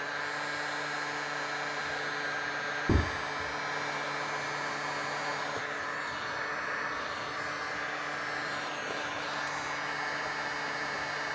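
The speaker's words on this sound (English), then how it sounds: "And we'll heat shrink that down now." A heat gun shrinks heat-shrink tubing over a motorcycle wiring harness on a Suzuki DR650 during a fender eliminator install, giving a steady airy whir with mains hum and one brief sharp knock near the start.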